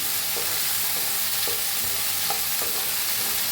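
A spoon scrapes and stirs green peas through roasted eggplant in a pan, steady close stirring with a few sharper clinks over a soft sizzle, no talking.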